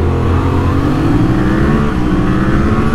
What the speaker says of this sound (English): Just holding revs.